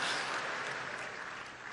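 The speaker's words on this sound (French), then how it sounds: "Est-ce qu'on peut applaudir?" Crowd applause at an awards event held in a stadium, a faint, distant wash of clapping that holds steady and slowly thins toward the end.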